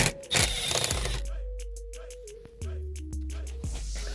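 A small electric drill backs Phillips screws out of the dash of a 1997 Jeep Wrangler, giving a steady whirring hum with pitch shifts and brief pauses between bursts, close up with no talk.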